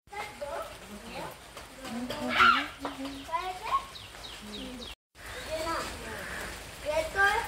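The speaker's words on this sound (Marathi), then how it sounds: "पक्ष्यांचे मधुर असे आवाज ऐकू येत आहेत." Birds chirp and call in short, repeated bursts near a riverside temple in the Konkan among teak trees, moderately close, while people talk over much of it.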